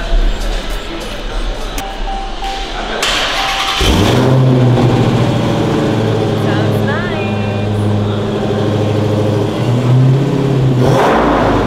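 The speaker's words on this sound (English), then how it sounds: "So I heard this one has a nice exhaust," A Dodge SRT Hellcat at a Downtown LA Jeep dealership fires up and revs loudly, its exhaust settling into a deep, steady rumble with swells in pitch, after some voices and movement in the first few seconds.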